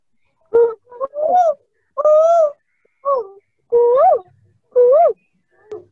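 A human voice imitates a cuckoo, several short hooting, pitch-swooping calls spaced out over a few seconds, close and clear.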